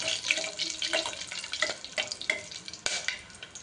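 Cinnamon and cloves tempering in hot oil as the spices are stirred, a light crackling sizzle broken by a few short scraping stirs, close and moderately quiet.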